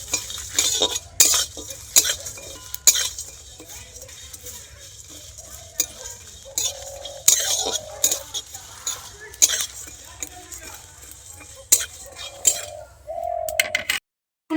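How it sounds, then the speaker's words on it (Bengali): Spices dry-roast in a dry pan while a utensil stirs them, producing intermittent scrapes and metallic clinks in short bursts separated by quiet gaps, close and fairly loud. "আর মশলাগুলো আমি শুকনো খোলাতে ভেজে নেব। খুব ভালো করে এবার আমি ভেজে নেব।"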